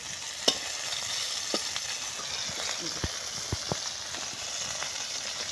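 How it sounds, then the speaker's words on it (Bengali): China punti fish lightly frying in a pan, a steady close sizzle broken by sharp clinks and scrapes of a utensil turning the fish, a few knocks standing out above the constant hiss. "হালকা একটু বাজিয়ে নিতেছি আমি মাছগুলো তুলে নেব"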